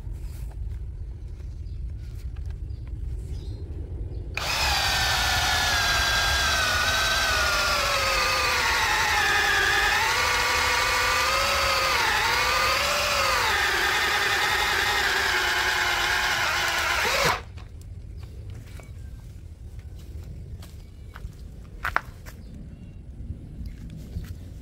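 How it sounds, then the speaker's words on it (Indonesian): Makita HP488 drill in drilling mode boring through a 10 cm thick block of meranti wood, a loud steady whining motor with shifting pitch lasting about thirteen seconds, close by, with quieter background before and after. "Untuk media yang akan kita bor adalah kayu meranti ya."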